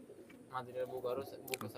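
A pair of Teddy pigeons gives soft, low, rolling coos close by, with a voice faintly underneath.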